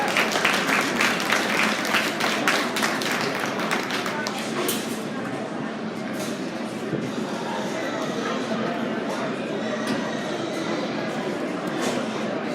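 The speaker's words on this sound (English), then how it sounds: "Give her a nice round of applause." Crowd applause breaks out at a winter swine jackpot livestock show, sharp claps thick at first then thinning into scattered clapping, with an announcer's voice over the arena noise.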